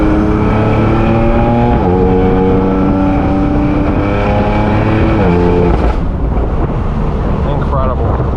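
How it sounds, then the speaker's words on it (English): Heavily modified 1000 hp turbocharged BMW M4 F83 convertible with downpipes, engine and exhaust droning loud and close through stepped gear changes as the turbos spool, wind buffeting the microphone throughout. "The way the turbos spool up with the downpipes."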